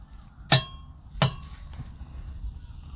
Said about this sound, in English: Alright, so then we just crank this down to 15 foot-pounds of torque.